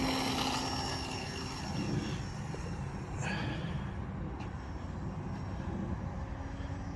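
A small E-flite Alpha Sport 450 RC plane flies outdoors, its electric motor and propeller making a continuous buzzing drone that holds fairly steady in level throughout.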